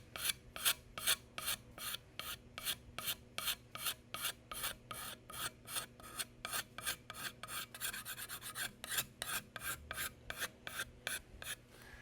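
Sandpaper worked over the wooden stock of a Remington 81 rifle, taking off the old powdery finish: steady, rhythmic rasping strokes, close and even, about two per second, with no voices.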